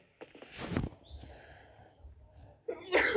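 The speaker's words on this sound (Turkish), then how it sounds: "Lan niye hapşırdın?" A single sneeze bursts out near the start in a horror video game, followed by a quieter stretch and then a louder burst of sound at the end.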